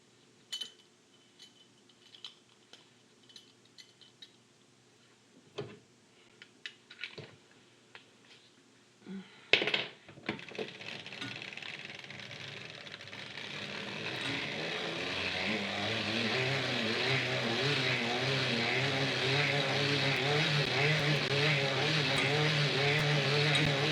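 Circular sock knitting machine being cranked through rows: scattered clicks and clacks at first, then a sharp clatter, followed by a continuous rhythmic whirring and ticking of the needles and cylinder that builds and holds steady, close by.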